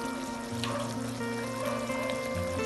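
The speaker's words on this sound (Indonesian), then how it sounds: "Sekarang masukkan sedikit air." Water pours briefly into a pot with a trickling splash, close by, over a steady background hum.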